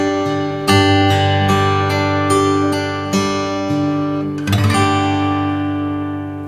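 A guitar is fingerpicked in a steady arpeggio pattern that opens with a strummed chord, the notes ringing clearly and close, a second chord struck near the end before the sound fades out; no talking.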